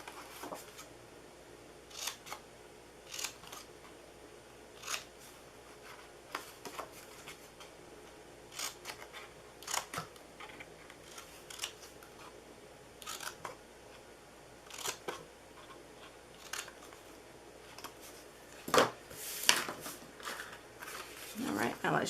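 Scissors cut the top of a paper cupcake box for a Fourth of July craft, giving soft, repeated snips and rustles at a steady pace, with a louder crinkling flurry near the end, while a person talks throughout.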